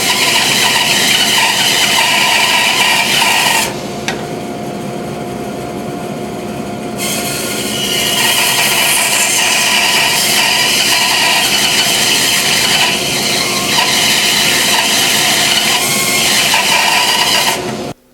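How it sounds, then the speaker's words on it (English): A bandsaw cuts the corners off a banksia and epoxy bowl blank with a loud, continuous high-pitched whine and screech, dipping briefly as the blade eases through the cut, then stopping abruptly at the end. "I'm going to take it to the bandsaw and just soften up the corners a little bit before we put it onto the lathe"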